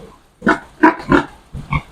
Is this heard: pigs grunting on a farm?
yes